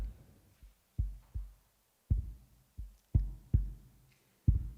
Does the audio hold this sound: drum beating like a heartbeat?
yes